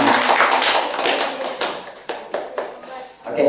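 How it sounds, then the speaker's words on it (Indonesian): Classmates in a school classroom clap after a drama reading, a short burst of brisk hand claps that thins into a few scattered claps, with a voice beginning near the end. "udah tepuk tangan dulu buat teman-teman"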